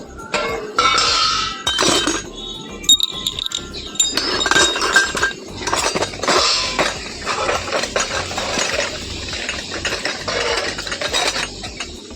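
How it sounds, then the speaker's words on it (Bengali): Bronze puja utensils are scrubbed with lemon, giving continuous close metallic clinking and clattering with scraping friction as the metal vessels knock together, steady and fairly loud throughout. "একটু কাঁসা বাসন চকচক চকচক করবে বেশ মাজবো লেবু দিয়ে"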